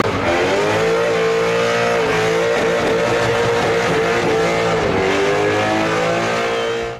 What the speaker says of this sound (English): So let's watch a quick burnout